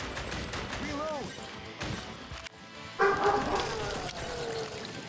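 A dog barks at home in several yips and bow-wows, likely set off by car and gunshot sounds from a retro video game playing nearby; the barks are close and fairly loud, mixed with game noise.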